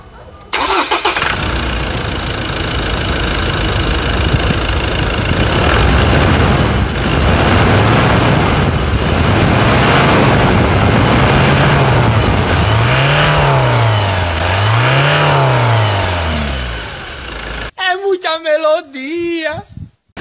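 A 2020 Ford Ranger 2.2 with a blown shock absorber starts and runs loudly up close, idling then revving in several rising and falling swells before the engine sound cuts off and someone speaks.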